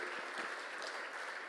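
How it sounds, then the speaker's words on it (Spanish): Short stretch of steady congregation applause during a church service, dense clapping heard at low level without talk. "Dale un aplauso fuerte una vez más a nuestro Dios."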